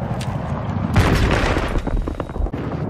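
A tank fires a shot in a multiplayer shooter game, setting off a heavy booming blast that swells at about one second and then rumbles and crackles along at a loud level, with no talk over it.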